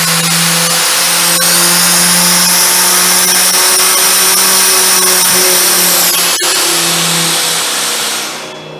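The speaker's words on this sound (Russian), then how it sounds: "Предлагаю остановить этот компрессор, и чтобы была возможность сравнить в работе, запустить второй." An IRONMAC screw air compressor runs steadily with a loud, even mechanical drone and hum, then fades as it winds down near the end.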